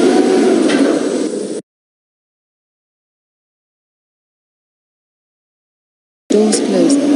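Doors of a Schindler 5400AP elevator slide open, heard as two short stretches of rumbling motion on either side of a long silent gap.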